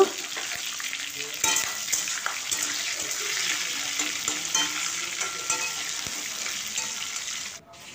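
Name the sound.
frying curry leaves and tomato in a pan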